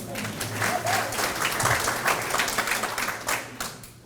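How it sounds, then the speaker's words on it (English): Audience at a parish presidential forum applauding themselves, a full, steady round of clapping with some crowd noise, holding strong before easing off near the end. "why don't you give yourselves a round of applause?"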